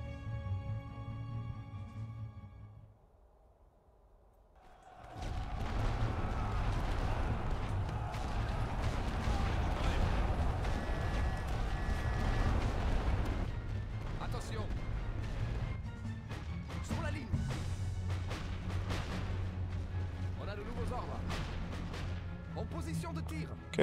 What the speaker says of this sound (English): So I'm going to use heavy artillery on that one, I reckon.